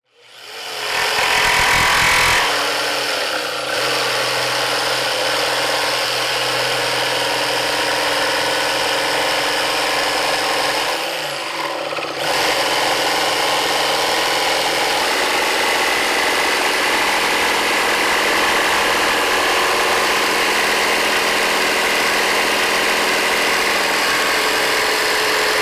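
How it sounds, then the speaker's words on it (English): A jigsaw cuts a curved wooden kitchen shelf backboard, its loud close motor buzzing steadily, briefly easing off around midway, then droning on to the end. "So now I'm ready to cut this with a jigsaw."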